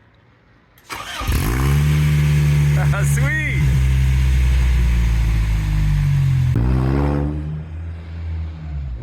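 Car engine fitted with a stainless steel header, leaner cans and a snorkel, starting up then revving hard several times close by, deep throaty roar rising and falling, with a brief voice speaking over it.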